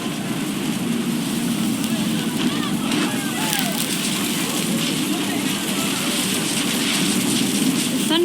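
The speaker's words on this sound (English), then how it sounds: "The rain came down in buckets then" Heavy rain falling in the video game What Remains of Edith Finch, a constant dense hiss lasting throughout, with a voice speaking over it.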